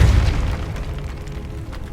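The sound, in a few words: Depulso spell blast in Hogwarts Legacy video game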